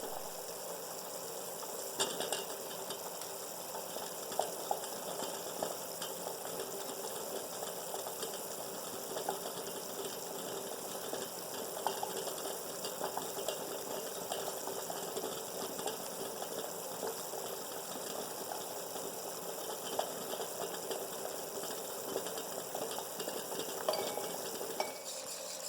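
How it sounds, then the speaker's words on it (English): Sugar syrup heating in a pot toward boiling, a continuous soft bubbling and fizzing hiss with occasional light clinks, steady throughout with no talk. "We're only at approximately the boiling point now, or not even there."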